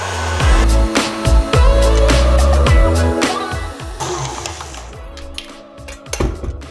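An electric hand whisk whisks caster sugar into egg whites for meringue, giving a loud, close motor buzz with rattling knocks against the bowl that quiets and turns sporadic toward the end.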